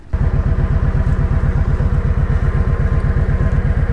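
A large motorcycle weighing over 900 pounds idles close by, its engine throbbing in a loud, steady, even pulse with no voices over it.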